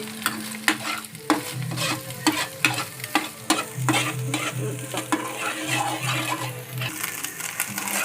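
Frying in a pan during Maggi preparation, a bright steady sizzle broken by regular spatula scrapes and taps every half second or so, close up with no speech.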